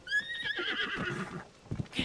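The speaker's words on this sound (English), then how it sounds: "That's a nice looking horse, man." Horse in Zelda: Tears of the Kingdom gives a loud, close whinny with a falling, wavering pitch, followed by a few faint hoof and handling noises at the end.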